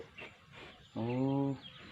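A chicken on a farm gives a single short, nasal clucking call up close, rising clearly above a quiet, faintly noisy background.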